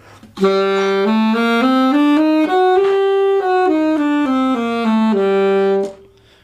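A harmonic minor scale played on one instrument, rising step by step then descending back down, notes even and clear, ending on a held tone.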